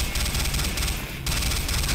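Bullets fire in rapid, continuous bursts during a firefight in Command and Conquer Renegade, loud and dense with a brief lull in the middle before the shooting resumes.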